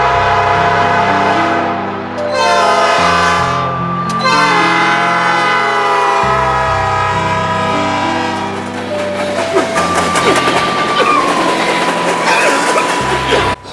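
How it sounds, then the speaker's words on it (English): A Norfolk Southern freight train led by a GE Gevo locomotive rolls past close by, a loud sustained rumble and wheel roar with tonal horn-like whines and rattling cars building toward the end. "this lead engine was a Gevo with a P5 on it"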